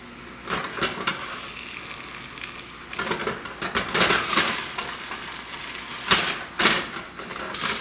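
Crumbled bacon fries with an ostrich egg in a pan, a steady, close sizzle broken by scraping stirs and clattering pan knocks.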